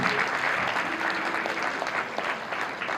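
Loud, sustained audience applause fills the hall at a school junior annual day celebration, steady dense clapping throughout with a faint crowd murmur.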